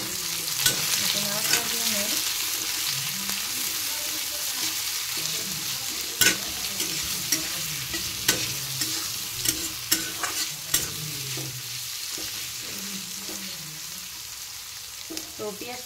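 Chopped onions fry in hot oil with cumin seeds and bay leaf, a steady close sizzle broken by repeated scraping stirs and spatula knocks against the pan.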